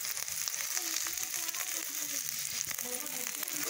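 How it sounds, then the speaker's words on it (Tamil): Curry leaves and green chilies sautéing in oil for a village blood fry, a constant close crackling sizzle with light stirring taps and a hint of voice in the background. "பச்சை மிளகாய் போட்டு நல்லா வதக்கணும்."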